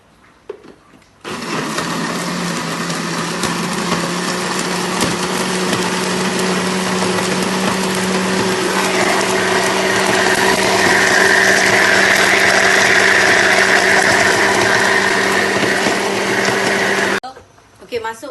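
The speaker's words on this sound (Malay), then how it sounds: "kita perlu blender masala kita ni" A blender grinds masala with a little water for egg kurma, a loud, steady motor whir that runs alone for about sixteen seconds and brightens slightly partway through before cutting off.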